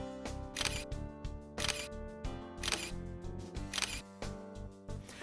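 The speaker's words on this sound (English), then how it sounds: "the camera will shoot continuously while you hold down the shutter button completely." A Nikon D90 camera shutter fires in continuous-shooting bursts, several rapid clicks in each, repeating about once a second against a musical background.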